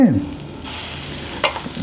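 A short burst of sizzling as ground gravy hits a hot wok, followed by a softer frying hiss and a brief clatter of stirring.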